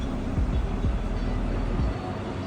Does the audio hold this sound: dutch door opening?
no